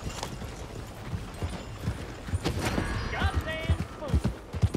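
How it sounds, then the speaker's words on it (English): Horse hooves clip-clopping in Red Dead Redemption 2, a steady patter of hoofbeats that grows louder toward the end amid other game sounds. "Oh, is it someone else's horse?"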